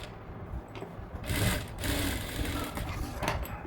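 A sewing machine stitching a high-neck blouse, its motor whirring in a short burst that starts partway through and runs on steadily, moderately loud and close, with quieter handling before it.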